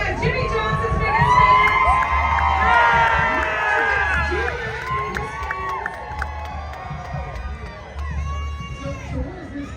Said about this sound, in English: look at this crowd out here